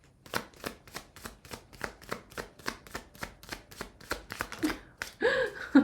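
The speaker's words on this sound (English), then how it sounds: "Okay, one more shuffle." A deck of tarot cards is shuffled by hand, a quick run of about fifteen even, rhythmic riffling snaps close by, ending with a brief handling rustle.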